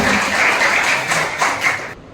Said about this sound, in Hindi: वह जोरदार तालियों से इनका स्वागत करेंगे।